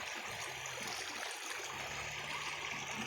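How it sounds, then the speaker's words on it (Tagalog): A strong current in a creek at Towerville, Bulacan makes steady rushing, broadband water noise throughout, fairly close and even in level. "Lakas ng agos."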